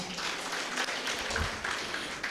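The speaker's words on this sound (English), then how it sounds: "A big round of applause." Audience applause at a combined diamond, golden and silver jubilee celebration of religious profession, honoring St. Clarence School management: steady, dense clapping from a crowd, fairly faint and even throughout with no talking over it.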